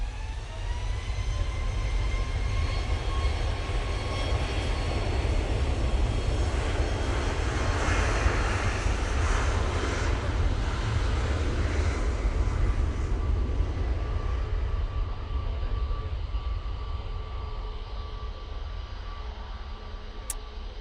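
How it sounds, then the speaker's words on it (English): Air Canada Boeing 787-9 Dreamliner jet airliner at Manchester Airport, a steady loud roar of jet engines with a broad rumble and whine holding throughout, swelling slightly mid-way then easing. "Air Canada 787-9 Dreamliner is coming out"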